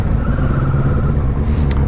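A 2020 Kawasaki Z650 motorcycle engine runs loud and close, a steady coarse rumble with slight rises in revs over a couple of seconds and no voices.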